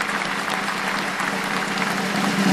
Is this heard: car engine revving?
no